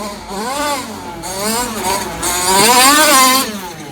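A Mini Kombi's small engine runs hard on a workout drive, its pitch rising and falling steadily as it revs, loud and close throughout.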